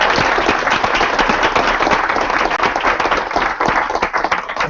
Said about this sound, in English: if we could please give them a round of applause for their work.